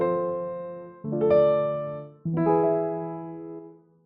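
Plain piano chord progression with no other sounds: three sustained chords, each struck about a second apart and left ringing, close and clear.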